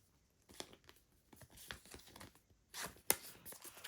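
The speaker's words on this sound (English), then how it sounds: "Let's get a cleaner sleeve on that." A card for the Senjutsu board game is slipped into a plastic sleeve, giving quiet crinkling and rustling with a few small taps and one sharp crisp snap near the end, faint and close.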